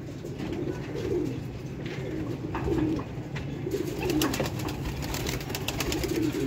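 Several pigeons coo steadily and softly from close by, their low rolling calls repeating over a constant background hum.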